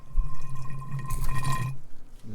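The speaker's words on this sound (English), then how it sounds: "Now you can see it's pouring out of the top hole" Rear differential fluid pours out of the top fill hole on a Nissan Armada, a steady liquid gurgle and trickle, close and fairly quiet, with no talking.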